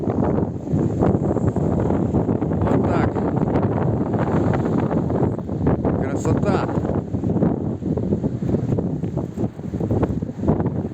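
Steady warm wind buffets the microphone beside a river in a continuous rushing roar, with a faint watery wash underneath; a voice talks through it.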